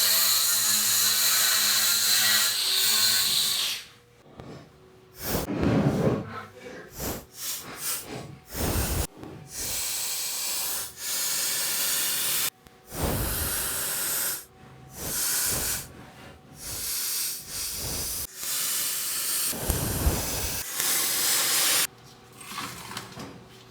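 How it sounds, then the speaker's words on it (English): Welding on the notched frame of a 1966 Chevrolet C10: loud crackling hiss in repeated bursts of a few seconds each, separated by brief silences, close up. "we're going to go ahead and weld this side in"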